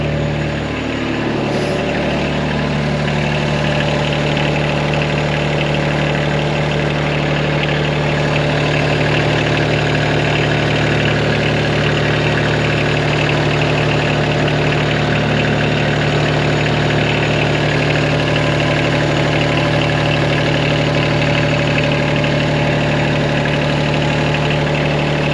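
An older car's engine idling steadily after a leak repair, a loud, even low rumble with a constant hum that holds unchanged for a long stretch, no voices.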